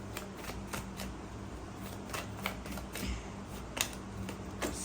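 Tarot cards shuffled and drawn from a deck, soft papery riffles and light flicks repeating quietly and close, with no talk over them.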